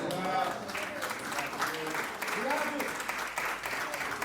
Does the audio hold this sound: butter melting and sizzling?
no